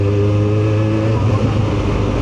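A Kawasaki ZX4RR motorcycle accelerates in traffic, its engine a loud, steady, close-up drone with a rising whine running continuously through the short stretch.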